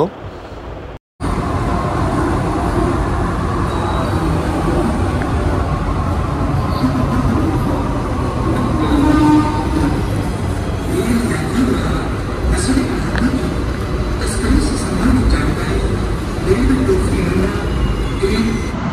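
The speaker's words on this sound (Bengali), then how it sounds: "কিছুক্ষণ অপেক্ষা করতে করতে মেট্রো কিন্তু চলে আসলো" A Kolkata metro train pulls into a station, a loud continuous rumble and roar that builds after a brief silent gap, with people talking over it.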